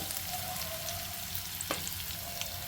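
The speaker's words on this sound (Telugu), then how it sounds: "సో ఇదండి ఇలా ఫ్రై చేసుకోవాలి" Vegetables, carrots among them, fry in a hot pan for veg hakka noodles, a steady close sizzle running throughout with a brief clatter of stirring near the middle.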